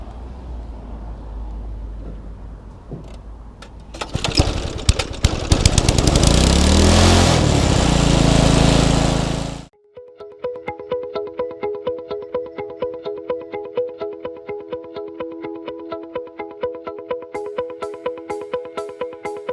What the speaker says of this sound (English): let's head out front and give it a quick mow